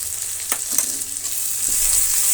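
Grated carrot frying with tomato and onion in a pan for bread upma, a close steady sizzle with a few stirring scrapes.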